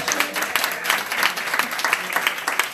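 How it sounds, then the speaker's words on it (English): An audience at a housing workshop gives the speakers a round of applause, with a full, steady patter of many hands clapping close by and a few louder individual claps standing out. "Let's give all our speakers a round of applause."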